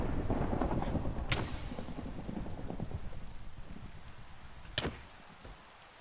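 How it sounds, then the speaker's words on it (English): Thunderstorm in Minecraft with the Cobblemon mod, steady rain hiss throughout with sharp thunder cracks near the start and again late on, fading quieter toward the end. "It's a thunderstorm right now."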